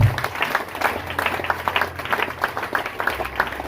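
A church audience claps and applauds together as a dense, sustained patter of many hands, fairly loud and steady throughout with faint crowd murmur.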